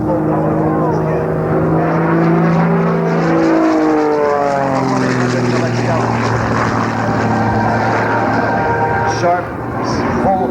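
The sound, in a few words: propeller airplane engine during air show aerobatics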